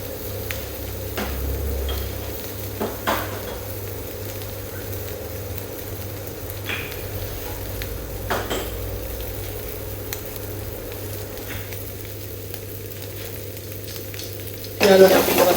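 Chopped bacon fries in a pan with a continuous crackling sizzle, dotted with sharper pops and occasional stirring clicks, steady throughout, with a brief louder burst near the end.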